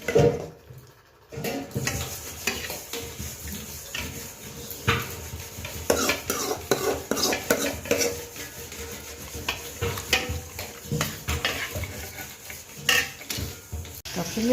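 A spoon scrapes and clinks around a pan as a tomato mixture is stirred in a home kitchen, with steady irregular metallic knocks and scraping over a faint sizzle, close and fairly loud.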